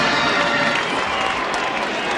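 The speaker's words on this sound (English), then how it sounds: "that gives this crowd something to cheer about" A college football stadium crowd cheers and roars in a broad, steady wash of noise, loud and sustained for a couple of seconds.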